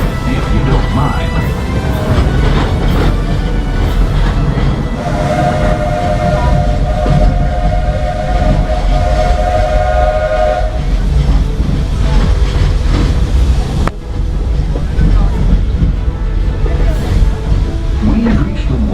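The Walt Disney World Railroad train rolls steadily at the Magic Kingdom, heard as loud continuous rumbling and clatter from on board, with a sustained whistle-like tone midway and a voice talking over it.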